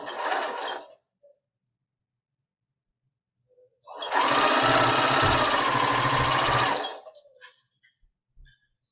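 A domestic sewing machine runs in one steady burst of about three seconds, stitching small 2.5-inch background squares in pairs with black or charcoal fabric for chain blocks, with a short mechanical whir before it and brief ticks after.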